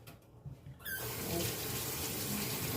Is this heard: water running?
yes